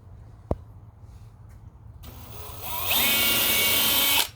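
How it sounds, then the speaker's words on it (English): After a single sharp knock and a quiet pause, a power drill bores into a barrel bung, whirring up to a steady high-pitched whine, close by, for over a second. "I'm just going to drill a hole in this bung."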